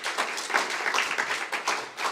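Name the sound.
audience applause for Clément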